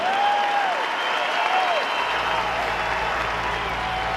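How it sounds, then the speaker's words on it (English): A large convention crowd at the NRA gathering in Louisville, Kentucky, applauds and cheers loudly and continuously, a broad roar of clapping with a few whistles rising above it near the start. "Wow, listen to that crowd."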